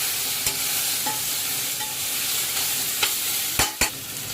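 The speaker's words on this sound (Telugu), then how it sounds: "ఇప్పుడు అడుగంటకుండా ఇలా కలుపుకున్నాక" A spoon stirs mixed vegetables and tomatoes for South Indian sambar in a pot, giving a steady scraping and sizzling bed with a few sharp clinks against the pot's side, strongest near the end.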